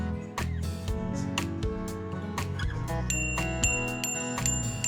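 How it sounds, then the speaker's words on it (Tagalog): A Decathlon Urban Cycling 100 bicycle bell rings repeatedly in a shop, about a dozen quick metallic dings in an uneven rhythm with lingering ringing tones, close and clear. "So dito naman tayo guys sa Urban Cycling 100 bike bell."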